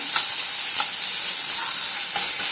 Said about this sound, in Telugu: కరివేపాకు కూడా దీంట్లో నూనెలో వేగితే బాగుంటుంది.